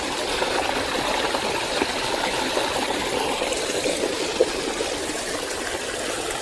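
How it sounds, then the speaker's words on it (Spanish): Water flows steadily from an original ancient Roman fountain in Smyrna, a continuous even splashing and trickling hiss that stays constant throughout, close and moderately loud with no voices. "pero la fuente de agua es original"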